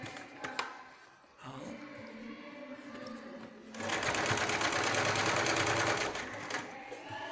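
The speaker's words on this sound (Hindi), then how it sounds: "पूरे बैग में ये सिलाई राउंड में लगा देंगे।" Sewing machine stitching around the edge of a fabric carry bag, running in steady bursts with a louder, sustained whirring run in the middle, close and clear with no talk.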